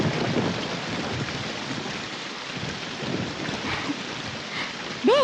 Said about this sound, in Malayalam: ഈ നൂല് പോലെ മഴ മുഴുവൻ എവിടെ നിന്നാക്കാ പറഞ്ഞേ?